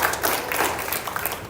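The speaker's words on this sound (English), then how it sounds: "Let's all give you a round of applause for your hard work" An audience at a school Battle of the Books event claps in a dense, loud, continuous burst of applause that lasts only a moment.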